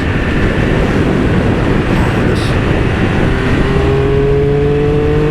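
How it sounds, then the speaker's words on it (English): Triumph Speed Triple RS/RR motorcycle exhaust roaring loudly and close, a dense continuous engine rumble with a rising tone as the rider rolls on the throttle, plus a brief voice. "Look at that, the sound of that exhaust music."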